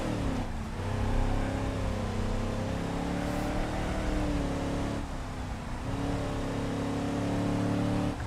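A car is driven in the BeamNG video game, with a steady engine drone that rises and falls in pitch through gear changes and throttle lifts, continuous and moderately loud with no voices.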